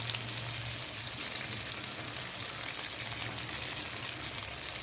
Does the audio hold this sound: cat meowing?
no